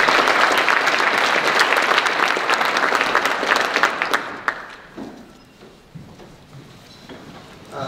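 A conference audience at a University of Illinois big data summit applauds to welcome a speaker, a loud, dense burst of clapping that gradually thins and fades toward scattered claps near the end.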